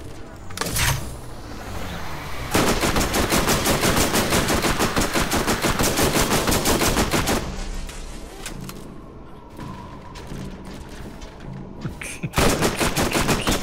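Gunfire in the Borderlands video game: a long stretch of rapid, steady machine-gun fire at close range, a short pause with scattered shots, then another burst of automatic fire near the end.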